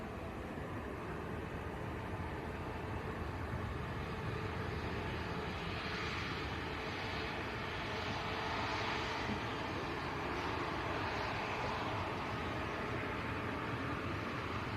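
A Ryanair airliner lines up for a full-length departure at Manchester Airport, its jet engines giving a steady, broad, distant roar that holds evenly throughout with no voices over it.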